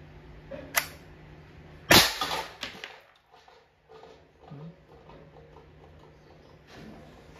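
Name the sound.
Umarex T4E TR68 airgun firing at sardine can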